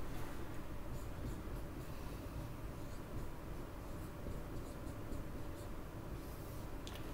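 Pen or stylus writing on a screen during a 5th grade drama lesson, a faint steady scratchy rustle with no talk.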